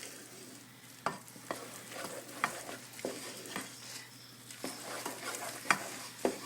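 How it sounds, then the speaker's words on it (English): A spoon stirs cream puff dough in a pot just taken off the heat, making repeated soft scraping strokes and thick, sticky squelches in an uneven rhythm, close and quiet with no talking. "And I'm stirring this together."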